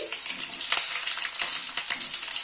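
Parboiled potatoes fry in hot mustard oil in a wok with a steady, bright sizzle and occasional stirring scrapes, close and continuous.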